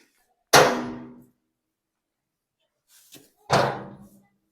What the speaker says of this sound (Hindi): फिर ये दरवाजा बंद करना पड़ रहा है